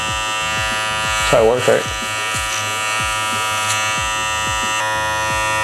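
An electric beard trimmer from a beard growing kit buzzes steadily and close up as it cuts facial hair, a constant motor hum running under a man's brief speech.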